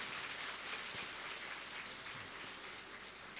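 A large audience at a motivational session for JEE and NEET aspirants gives a round of applause: a dense, hissing wash of many distant hands clapping, steady and unbroken.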